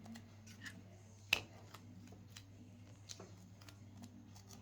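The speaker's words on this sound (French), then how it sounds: "on prend le tape. On découpe un bout." A short, crisp cut of a piece of tape for stick-on magnet clips on an MST RMX 2.5 RTR RC car, one sharp snip standing out briefly against a quiet, steady low hum, followed by faint small handling noises.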